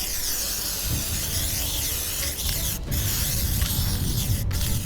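A spray can hisses in a steady, close burst as primer is sprayed onto a restored part from a 1950s Snow-Trac snowcat. A couple of short breaks interrupt the spray, and no one talks.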